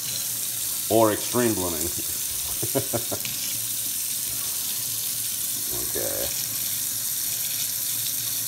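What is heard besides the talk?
hot water running from tap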